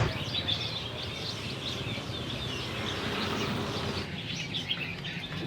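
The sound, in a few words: caged pet birds chirping at market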